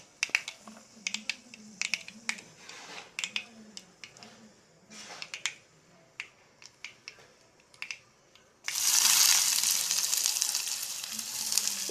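Finely chopped onion hits a hot pan and bursts into a loud, steady frying sizzle, preceded by sharp clicks and faint clatter of preparation; no one speaks.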